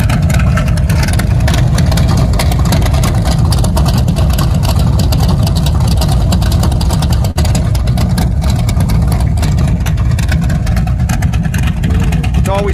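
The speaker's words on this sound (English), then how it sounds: "that's your sound with the exhaust cutouts" Muscle car engine rumbling with its exhaust cutouts open, a loud, close, raw low throb with a choppy idle pulse that carries through the whole stretch, with a voice speaking faintly over it.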